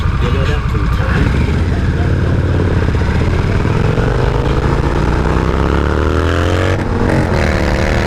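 A Harley-Davidson Nightster motorcycle roars steadily while being ridden, with loud wind buffeting and the engine rising in pitch through a gear change near the end, and a rider talking over it.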